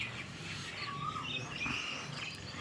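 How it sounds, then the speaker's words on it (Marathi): Faint birds chirp and tweet among trees in the background, scattered short calls over a soft outdoor hush. "पक्षाचा आवाज ऐकू येत असेल तुम्हाला. पूर्ण किलबिलाट नाही का"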